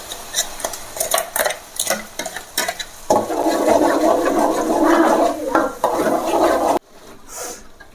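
Onion gravy for cashew curry stirred in a cooking pot, starting with clanking utensil strokes against metal, then a loud wet hissing sizzle for several seconds before it cuts off.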